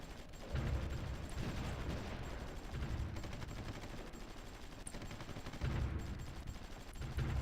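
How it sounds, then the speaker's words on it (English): Rapid bursts of gunfire and booming artillery from the Supreme Ruler: The Great War strategy game roll on continuously with heavy low thuds, loud and dense throughout. "And now here comes our artillery."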